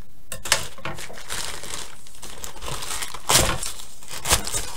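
Diamond painting kit packaging being cut and torn open, giving continuous close crinkling and rustling with several sharper tearing bursts, no voices over it.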